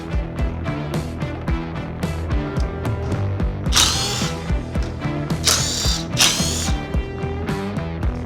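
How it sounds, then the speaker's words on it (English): A power drill boring out rivets from a mounting bracket on a Honda TRX250R ATV: repeated whining bursts of the motor revving up and down, close and loud, with sharp grinding spikes as the bit bites through metal. "I'm going to drill out these rivets and save this mounting bracket."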